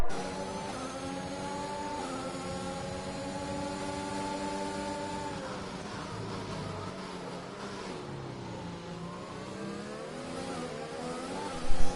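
Racing cars on a track in a Formula 1–style sprint race video game, set at Saudi Arabia and China circuits, hold a steady loud engine whine with rising and falling pitch as they accelerate and shift, continuous throughout.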